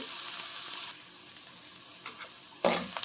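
Onions and fenugreek seeds sauté in hot oil for a shark fish curry, a close, bright sizzle that is strong at first and then settles to a softer crackle, with a sharp clatter near the end.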